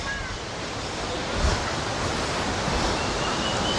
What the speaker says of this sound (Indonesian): Nah, ini yang di sungai. Di area pinggir sungai.